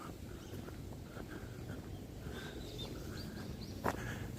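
Birds chirp faintly near a Tokyo Marunouchi line train depot, with scattered short calls over a low outdoor rumble and wind noise in a quiet setting.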